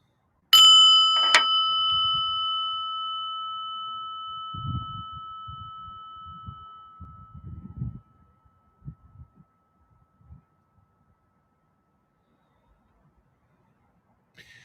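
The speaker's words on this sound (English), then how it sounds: "Listen to the bell." A single clear bell strike rings out and slowly decays over several seconds, followed by faint low shuffling and movement noises.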